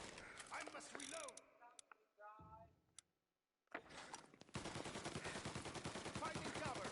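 Mechanical reload clicks and clatters of a gun in Mafia Definitive Edition, a few sharp metallic snaps, a short silence, then dense rapid gunfire bursts close up, with speech over parts of it.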